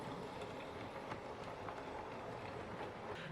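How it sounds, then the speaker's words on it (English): A Hornby James the Red Engine DCC model train runs along its track with a steady, quiet rolling whir and faint rhythmic clicking, continuous and close. "let's get James moving, and let's see how well he runs"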